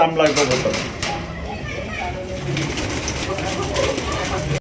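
Pigeons cooing amid the bustle of a pigeon market, soft coos mixed with crowd chatter and children's voices, while someone talks nearby over the whole scene.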